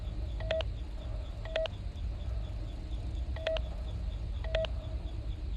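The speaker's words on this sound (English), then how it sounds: "Please enter your name as seen above the keypad" Four short clusters of electronic keypad beeps, each a quick double or triple tone, as a name is typed on a keypad in the Five Nights at Freddy's film, spaced about a second apart over a faint low hum.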